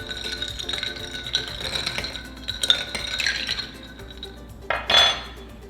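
A spoon stirs keto lemonade and ice in a glass, making a run of close, irregular clinks and rattles against the glass that grow loudest near the end, with no talk.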